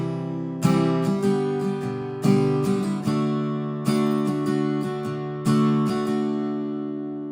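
An acoustic guitar strums the chorus of a song at regular tempo, with four strong strum bursts and sustained ringing chords, close-miked and without voices.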